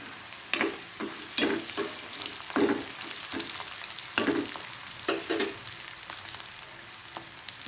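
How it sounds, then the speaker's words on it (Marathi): Onion goes into a hot pan with cooked potato, sizzling steadily up close while a spoon stirs and scrapes in repeated bursts. "आता गरम पडला त्यामध्ये आपण कांदा टाकूया"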